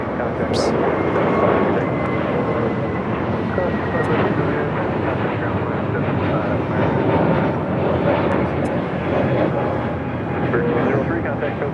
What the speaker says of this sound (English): A321 now rolling down, 25 right